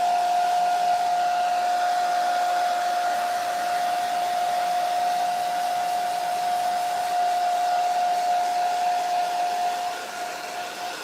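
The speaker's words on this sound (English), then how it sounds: "Let's see if we can dry this up so that we can use it without blowing everything else off the table." A hair dryer blows steadily on a reusable stencil at a tabletop, a loud continuous whir with a strong steady tone that holds for about ten seconds before easing slightly at the end.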